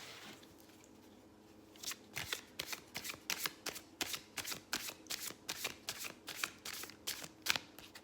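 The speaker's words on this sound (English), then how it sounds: "I'll shuffle and pull 4 cards from each deck to form 4 different piles." Tarot and playing cards being shuffled close up: after a quiet start, a rapid run of crisp riffling bursts repeats in a steady rhythm, each a short papery flutter, with no voices.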